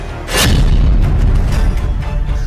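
A drone bomb blast on a cargo ship, rendered as an explosion effect: a loud, deep boom bursts in after a brief lead-in and rolls on as a heavy, sustained rumble to the end.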